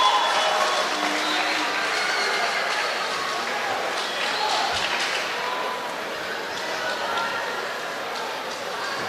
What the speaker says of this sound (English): They're getting a big round of applause from the Uni of supporters.